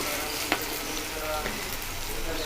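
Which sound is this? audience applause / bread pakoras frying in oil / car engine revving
bread pakoras frying in oil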